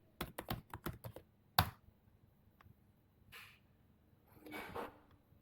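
Typing on a computer keyboard during spreadsheet work: a quick run of sharp key clicks, then a single hard tap and a few softer scattered keystrokes, close and fairly quiet, with no talking.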